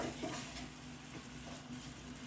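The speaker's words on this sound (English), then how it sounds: "So we're going to stir that again so that it's mixed in with the meat." Meat and garlic frying in a pan with a steady, close sizzle as a utensil stirs and scrapes through it, the crackle continuous throughout.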